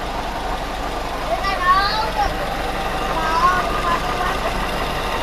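A Jeep CJ2a with an L134 engine idles in a steady, low, continuous rumble close by, while people talk over it.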